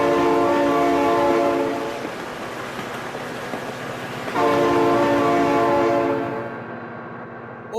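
Loud, sustained horn blasts from a passing train in the BeamNG.drive driving game, playing over a rumbling rail roar. The horn stops briefly and then sounds again before fading away, with no speech.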